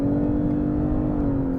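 A Lexus LS 500h hybrid's V6 and electric motor give off a steady, even whir and drone heard from inside the cabin, unbroken and moderately loud throughout.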